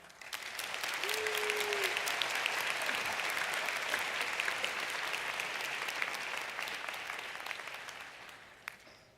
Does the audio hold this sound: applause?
yes